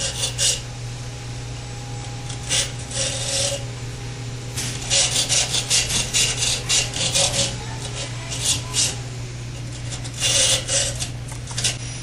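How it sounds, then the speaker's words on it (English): Steady rasping saw strokes grinding through fiberglass around a copper wire while repairing a Jameson Duct Hunter, close up, in a repeated back-and-forth rhythm with brief pauses. "saw down gradually through the fiberglass without touching the copper wire"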